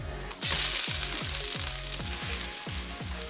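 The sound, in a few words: Italian sausage frying in a Dutch oven with onions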